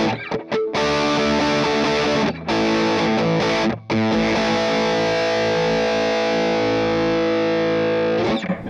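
A guitar played through a Friedman MiniBE amp head gives loud, distorted sustained chords with a couple of brief pauses early on, then one long ringing passage.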